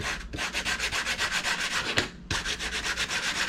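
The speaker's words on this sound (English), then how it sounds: "I'm just gonna use the sandpaper real quick and just scrape that off." Sandpaper scrubs old wax off a Thor's Hammer, fast back-and-forth rasping strokes, loud and close and evenly rhythmic, with one brief pause near the end before the strokes resume.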